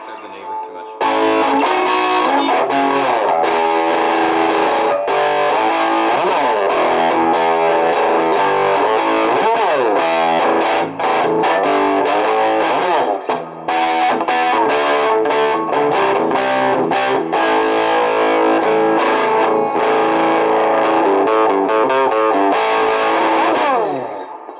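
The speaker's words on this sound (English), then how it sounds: "So this is what it's going to sound like with the Boss blues driver." An electric guitar is played through a Boss Blues Driver overdrive pedal into a tube amp, giving a loud, continuous, gritty driven tone with strummed chords and riffs that run for the whole passage.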